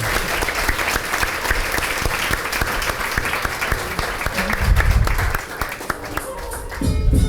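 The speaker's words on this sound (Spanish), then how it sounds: "pido que den un fuerte aplauso a nuestros invitados de esta noche" Audience applause for the guests on a Spanish-language late-night comedy show, dense steady clapping filling the room throughout and swelling slightly near the end, with some voices mixed in.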